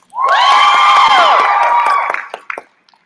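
A sorority crowd cheers and whoops loudly for the Village Sisters, a sudden swell of shrill voices that holds for about two seconds, then breaks into scattered claps and fades out.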